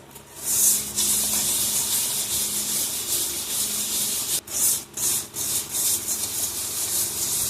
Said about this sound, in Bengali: আমটার পুরো খোলাটা আমি এইভাবে ছাড়িয়ে নেব।